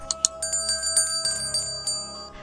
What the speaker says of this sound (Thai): กดกระดิ่งเพื่อรับการแจ้งเตือนคลิปใหม่ก่อนใครด้วยนะคะ